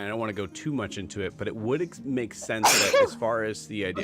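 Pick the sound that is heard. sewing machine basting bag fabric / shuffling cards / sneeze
sneeze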